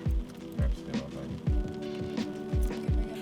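Steady rain patters across a broad hiss, with heavy low drips thudding every half second or so; no voices are heard.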